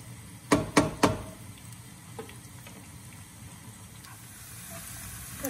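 Onions fry in a pan for tomato rice, with three sharp sizzling bursts as they are stirred early on, then a quieter steady crackle that continues to the end.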